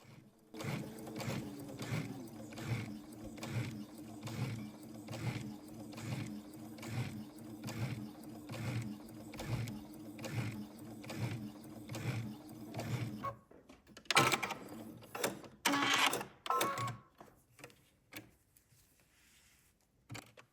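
Home sewing machine stitching fabric for a loungewear garment, a steady rapid mechanical chatter of the needle running for several seconds, then a few slower, irregular bursts and handling noises before it trails off.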